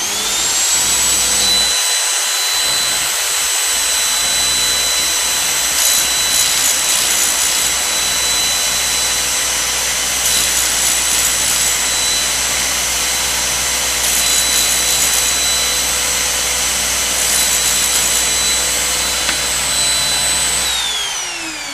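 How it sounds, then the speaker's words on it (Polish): An electric drill runs steadily while a thick 10 mm drill bit is sharpened in a jig, producing a loud continuous whine with a high tonal ring and gritty grinding texture, briefly dipping near the start. "Włączamy wiertarkę, będzie trochę szumu,"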